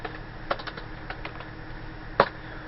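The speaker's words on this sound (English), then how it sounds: "we're going to type the command Java." Keystrokes on a computer keyboard while entering a command in Linux, a handful of sparse, light clicks with one sharper, louder tap near the end, close by and alone with no talking.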